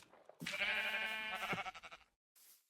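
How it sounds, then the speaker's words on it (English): A baby sheep in Minecraft gives one close, drawn-out bleat that wavers and breaks up at the end, followed by a short fainter second bleat. "we have a dark gray baby sheep?"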